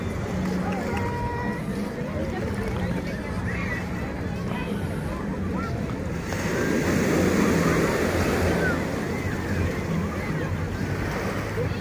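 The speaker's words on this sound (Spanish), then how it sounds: "las olas no están así fuertes" Gentle surf washes steadily onto a crowded beach at Playa Papagayo, with crowd chatter and babble running throughout and growing busier near the end.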